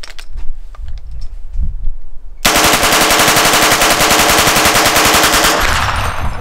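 A belt-fed machine gun fires in the video game Arsenal, a loud, rapid unbroken burst of shots lasting about three seconds after a quieter stretch of small handling noises.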